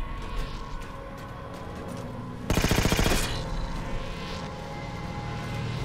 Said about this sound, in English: Shooting us, trying to shoot us.